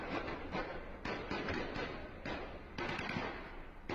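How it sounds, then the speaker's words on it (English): Gunfire down a street in an unrest zone, a series of sharp, faint-to-moderate reports every half second or so, heard from a distance with no talking. "you can still hear the gunfire down the street"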